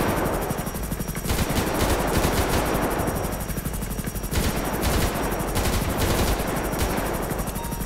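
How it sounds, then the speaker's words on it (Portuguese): Automatic gunfire in GTA 5 roleplay, a sustained, loud stream of rapid shots with bursts throughout, under a dense rumbling background that suggests aircraft. "eu que vou dar um tiro aqui"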